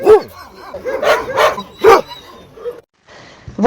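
A rescued shelter dog barks several times in quick bursts, close and loud, with whimpering yips between barks, then a brief silence and one more bark at the end.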